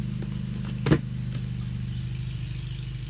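A steady mid-pitched engine drone runs continuously in the background, like a lawnmower outside, with a brief knock partway through.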